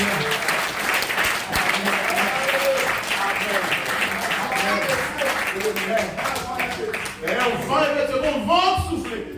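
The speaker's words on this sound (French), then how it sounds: "Vous m'avez applaudi, Seigneur." A church congregation applauds loudly and continuously during a sermon, with a voice carrying over the clapping.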